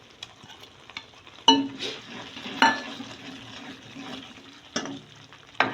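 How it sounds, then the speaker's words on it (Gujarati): Onion and tomato puree goes into a hot frying pan of oil, giving a few sudden splashing bursts of sizzle and stirring against a quieter background hiss. "હવે આપણે તેમાં જે ડુંગળી અને ટમેટાની પ્યોરી બનાવી હતી મિક્સરમાં ક્રશ કરેલી તે નાખી દઈશું."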